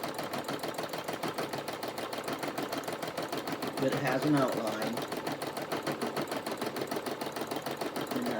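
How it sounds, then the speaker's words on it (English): A sewing machine stitches an embroidered outline of a house with peaked roofs onto toilet paper, its rapid steady needle clatter running throughout as a person talks over it. "that's what's sewing right now behind the house part"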